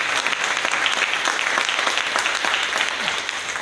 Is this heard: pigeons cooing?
no